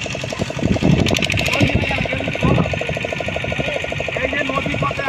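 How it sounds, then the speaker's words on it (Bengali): A boat's engine thrums with a rhythmic, pulsing drone on a river trip through mangrove forest, running close and steady while people talk over it. "এই যে নদী পথে আমরা নৌকায় যাচ্ছি"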